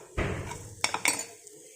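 Amla (Indian gooseberry) rice being mixed in a pan with a spoon, giving a few sharp metallic scrapes and clinks over a soft rustle, close and moderately loud.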